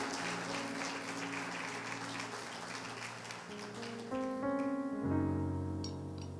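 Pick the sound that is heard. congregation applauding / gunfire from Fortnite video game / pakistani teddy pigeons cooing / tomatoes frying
congregation applauding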